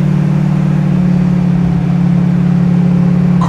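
A 1967 Chevrolet Camaro SS style car accelerates on a straight track, heard from inside as a loud, steady engine drone that holds its pitch throughout.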